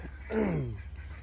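One Jersey Giant chicken gives a single drawn-out, falling call during morning feeding on a homestead, faint against a low steady background hum.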